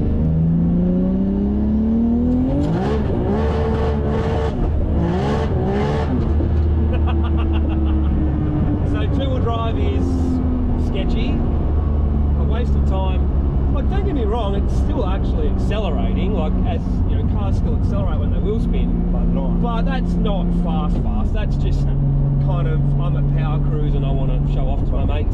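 A 1000 hp twin-turbo R33 Skyline GT-R engine revs hard in two-wheel drive and climbs through gears, pitch rising and dropping with each shift, loud and close, with a voice talking over parts of it.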